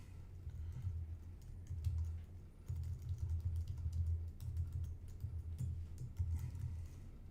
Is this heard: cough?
no